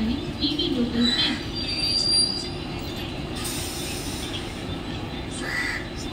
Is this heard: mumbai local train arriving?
yes